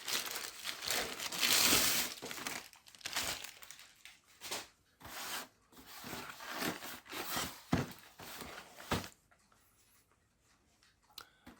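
Thin plastic bag crinkles and rustles in bursts as transparent PLA 3D-printer filament is unpacked. The sound is close and fairly loud and stops near the end.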